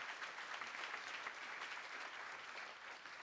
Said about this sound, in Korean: 믿으시면 박수 치세요